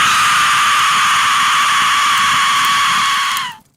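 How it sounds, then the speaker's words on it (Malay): An Aztec death whistle gives one loud, continuous piercing shriek like a human scream, held steady for several seconds before it cuts off abruptly. "Apa yang anda dengar ini adalah bunyi death whistle."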